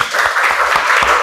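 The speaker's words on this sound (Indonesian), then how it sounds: "Iya, bagus, tepuk tangan." A school class in a high school classroom bursts into brief, close applause, a quick patter of many hands clapping at once.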